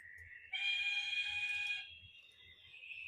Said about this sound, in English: if I just do a little whistle,